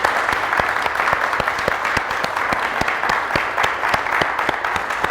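An audience at a book festival applauds, with dense, steady clapping from many hands held close throughout.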